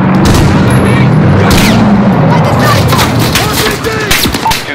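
Heavy gunfire and booming blasts from a missile strike in Call of Duty: Modern Warfare, a dense, continuous barrage with low rumbling impacts and crackling shots filling the whole stretch, with voices faintly underneath.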